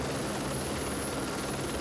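A helicopter roars steadily and fairly loud as it prepares to ascend during a performance of Stockhausen's opera Mittwoch aus Licht by Birmingham Opera Company, a dense continuous rotor and engine wash.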